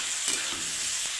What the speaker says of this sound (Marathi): घेवडा पण आधी आपण थोडंसं तेलामध्ये फ्राय करून घेऊ